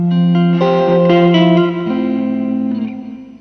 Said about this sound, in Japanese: 今回はプレートっていうリバーブにしてて